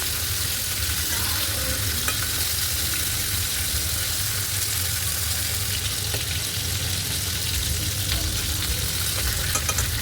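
Chicken pieces fry in a pan of oil, giving a continuous dense sizzle and bubbling hiss at even loudness throughout, with a low hum underneath and no voices.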